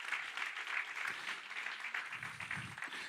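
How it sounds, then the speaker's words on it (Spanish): Church congregation applauding during a sermon, a steady wash of clapping from many hands, moderately near and evenly sustained for a few seconds. "Dale un aplauso al Señor."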